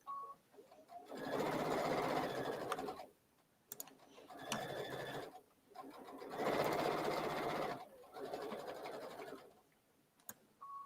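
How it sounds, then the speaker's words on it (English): A sewing machine stitches along both sides of a quilting block, running in four long loud bursts with short pauses between them, close up and with no talking. "I'm sewing on either side of this so that I can cut down the center to have a perfect block."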